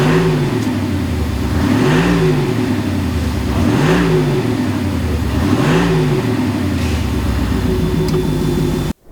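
An Audi SQ8 with an ABT sound module revs repeatedly, three rising and falling surges of a deep, loud exhaust note in steady rhythm, close by, ending abruptly.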